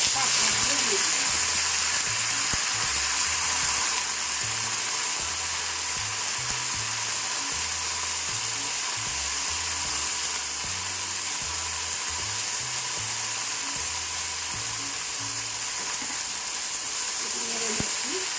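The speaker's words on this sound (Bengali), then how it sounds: "রসুনগুলো মোটামুটি ভাজা হয়ে গেছে। এবার আমি শাকগুলো দিয়ে দিচ্ছি।" Jute greens go into a pan of frying garlic and sizzle with a steady, soft hiss that carries on throughout, while a low voice murmurs faintly underneath.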